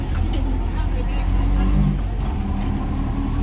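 Inside an auto rickshaw moving through traffic toward Mulund, a constant loud low engine rumble and road noise fill the ride while people talk over it.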